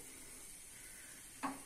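Hot oil tempering (vaghar) poured over dahi tikhari with green garlic, coriander and red chilli powder gives one short, sharp sizzle near the end, after a steady faint hiss.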